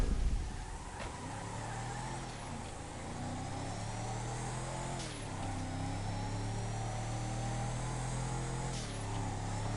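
Steady mid-pitched truck engine droning through a driving stretch in a video game, with periodic gear shifts and rising revs, and no talk over it.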